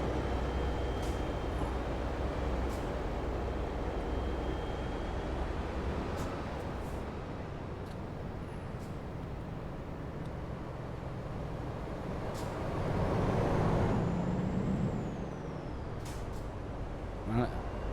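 An Iveco truck engine in Euro Truck Simulator 2 drones steadily as the truck picks up speed, a broad continuous rumble that swells briefly near the end, with no one talking over it.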